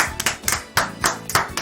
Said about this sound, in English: right now we should all clap